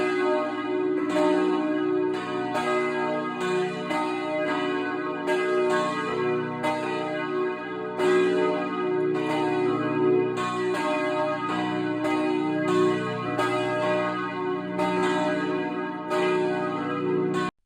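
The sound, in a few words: church bells ringing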